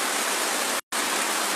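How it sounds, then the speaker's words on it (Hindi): Dense, steady roar of heavy rain pouring down, loud and close, cut by a brief moment of silence before the downpour resumes. "जोर से बारिश होने का कारण देखिए"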